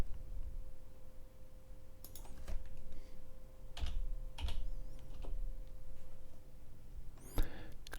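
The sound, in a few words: typing a search on a computer keyboard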